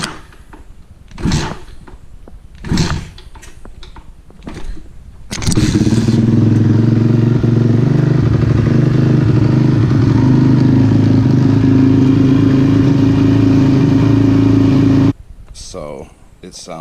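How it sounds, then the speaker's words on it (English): A 212cc small engine is kicked over a few times with sharp clunks, then catches and settles into a loud, steady idle that runs for about ten seconds before cutting off. "We'll see if it'll start by kicking it real quick."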